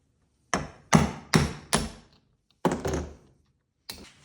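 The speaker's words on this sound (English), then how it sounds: "take this punch, and we'll knock that primer right out" A metal punch is struck to knock the primer out of a shotgun shell seated on a socket, giving six sharp, close thunks in uneven succession, each ringing briefly before dying away, with no talk.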